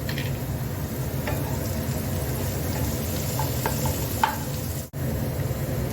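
A sauce mixture with lightly sautéed garlic and coriander stems stirred in a pan, a soft continuous sizzle with occasional faint scraping clicks and a brief dropout near the end.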